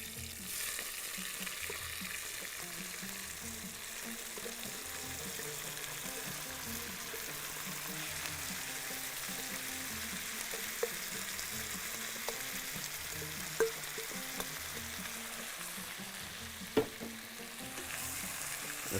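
Potatoes fry in a pan with a spice mix while being stirred for daal, giving a steady, quiet sizzle with occasional scraping clicks from the spoon throughout.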